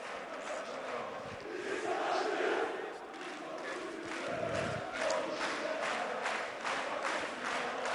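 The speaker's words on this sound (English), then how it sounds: "It's crowd are getting into it now, though." A basketball arena crowd in Istanbul roars and chants during a timeout at a Eurocup game, a dense sustained wall of voices with rhythmic rises, heard at a distance under faint commentary.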